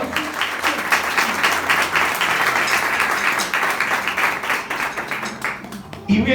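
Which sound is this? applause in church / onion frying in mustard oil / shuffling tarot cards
applause in church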